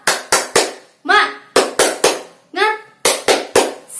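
Children in a fourth-grade classroom perform a rhythmic clapping chant: sharp, close groups of three claps alternate with short chanted vocal phrases, repeating in a tight, loud pattern.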